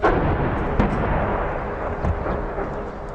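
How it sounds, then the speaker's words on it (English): Continuous artillery shelling at daybreak in a war-torn town, a dense rumbling barrage of booms and blasts, some distant and some close, with sharper cracks standing out around the first and second seconds. "The shelling started as it does just about every single morning with daybreak, and it's pretty much non-stop."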